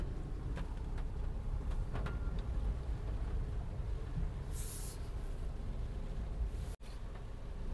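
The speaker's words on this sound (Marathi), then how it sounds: "पाऊस पण एवढा आहे आज" A Tata Punch drives through heavy rain on a waterlogged road, with a constant broad hiss of rain and tyre spray filling the cabin, steady and unbroken, plus a brief whoosh of passing spray.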